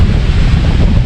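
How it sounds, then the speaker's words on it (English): Strong wind buffets the microphone at a solo tent campsite in Sica Hollow State Park near Sisseton, South Dakota, a loud, steady low roar and rumble filling the whole moment without pause. "it is windy out here"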